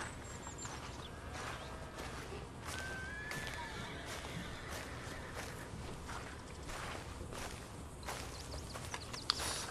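A horse neighing on a farm in the video game Red Dead Redemption 2, a short whinny near the start among hoof clops and footsteps over quiet outdoor ambience, moderately close.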